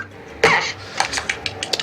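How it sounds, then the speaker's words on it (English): Cartoony slip-and-fall sound effect with the xylophone taken out: a sharp squeaky clatter followed by a few lighter scattered knocks and taps, fairly loud and heard alone. "So, we liked the idea of having a slip sound,"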